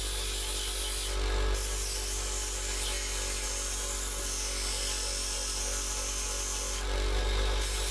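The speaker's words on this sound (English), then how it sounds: "Just keep grinding it down." A hacksaw blade is ground into a lock pick on a bench grinder, a steady loud whine of the spinning wheel with two brief surges of harsher grinding as the steel touches the wheel.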